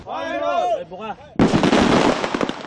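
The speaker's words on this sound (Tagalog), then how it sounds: "Bukod sa pagpapasabog sa ilang kumpiskadong paputok ngayong araw" Confiscated illegal firecrackers are detonated in a burst of rapid, crackling bangs that follow a few seconds of talk, loud and close.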